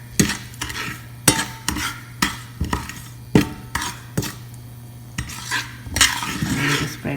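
A spoon stirs cumin seeds and whole spices in an oiled pan before stuffed okra goes in, sharp metallic clinks and scrapes recurring roughly every second over a low sizzle, close and with no talking.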